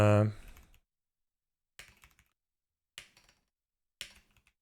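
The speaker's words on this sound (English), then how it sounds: "what am I typing?" Short bursts of typing on a computer keyboard follow a brief spoken word, three separate quick flurries of close clicks spaced about a second apart with silence between them.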